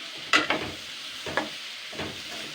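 Pumpkin frying in a pan with turmeric, salt and sugar, giving a soft steady sizzle with three brief louder bursts of stirring and scraping, close and fairly quiet, with no talking.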